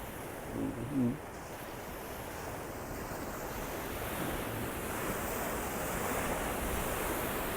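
Steady wash of sea waves rolling in, with wind noise across the microphone and a brief murmur of voices near the start.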